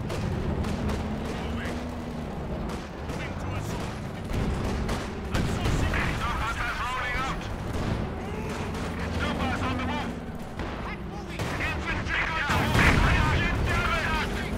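Gunfire and artillery explosions from the World War II strategy game Company of Heroes 2, dense and continuous with heavy booms throughout, mixed under voiced unit chatter.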